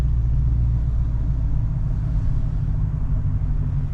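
A Dodge Charger engine idles at a McDonald's drive-thru, giving a steady, deep, close rumble throughout with no sharp revs standing out.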